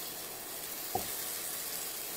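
Pineapple frying in caramel in a pan, a soft even sizzle that stays faint and steady throughout, with one brief small tap partway through.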